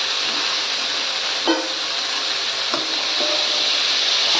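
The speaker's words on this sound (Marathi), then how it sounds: "आता आपल्याला गवार टाकून घ्यायची, चांगले तेलात परतून घ्यायची" Cluster beans sauté in hot oil with a steady, close sizzle, broken by a few sharp clicks as a utensil stirs the pan.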